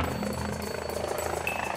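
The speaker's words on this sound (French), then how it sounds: "je crois qu'il y a l'hélicoptère qui est en train d'arriver" A helicopter arriving at a highway accident scene on the A7 autoroute, heard as a steady, moderately loud rotor thrum with rhythmic pulsing.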